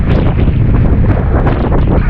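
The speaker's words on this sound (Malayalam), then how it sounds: "ഭയങ്കര കാറ്റായി." Strong monsoon wind buffets a boat on open water in Kerala, a steady, loud roar with rumbling gusts pressing on the microphone throughout, no voices heard.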